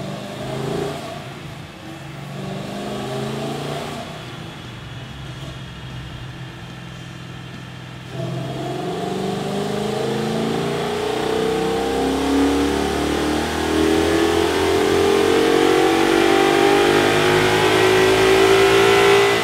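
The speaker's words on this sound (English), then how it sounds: "A little bit earlier, our R&D tech, Anthony, threw the car on the dyno just to see what kind of numbers we get out of our completely stock 2013 GT" A completely stock 2013 Ford Mustang GT with its 5.0 V8 revs on a dyno, running fairly steady at first, then surging louder and rising in pitch through a long, sustained pull.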